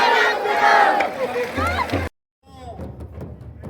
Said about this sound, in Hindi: आज देख सकते हैं कि किस तरह इनके लिए जोरदार तालियां